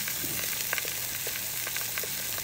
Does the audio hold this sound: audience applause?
no